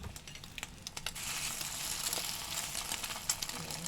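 A slice of bread with egg frying in butter in a pan, giving a steady low sizzle with faint crackles and light scraping throughout.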